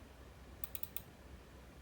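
Four quick, faint laptop clicks come in a short cluster while opening a Facebook shortcut, set in an otherwise quiet room.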